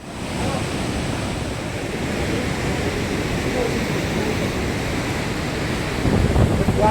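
Saraswati river roaring past Bhim Kund near Mana village by Badrinath, a dense, continuous rushing wash of water with wind buffeting the microphone, steady throughout and slightly louder at the close.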